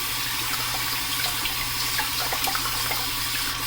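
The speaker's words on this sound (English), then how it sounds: "just trying to get hot water out of the tap" Hot water runs steadily from a bathroom tap during a wet shave on a cold day, a continuous close hiss that stays even throughout with no talking.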